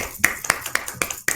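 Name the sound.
hands clapping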